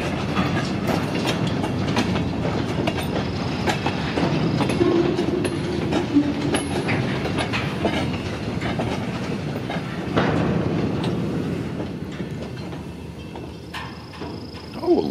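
Freight train with blue boxcars rolling steadily past, a continuous rumble with rhythmic wheel clicks on the rails and brief high metallic squeals, heard from close by.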